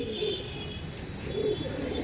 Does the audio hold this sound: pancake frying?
no